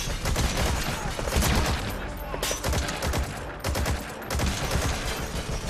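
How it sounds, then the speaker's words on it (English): Gunfire in the video game Metal Gear Solid V: The Phantom Pain fires at the player, a dense, continuous barrage of rapid shots and crackling bursts, loud and close, with a few brief lulls. "I don't know what I'm hearing shooting at me, but I'm on the move."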